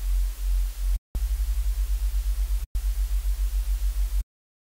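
A Serum synth white-noise oscillator set bright hisses in steady bursts, pulsing rhythmically with a low throb from phase cancellation, broken by two short silent gaps before stopping.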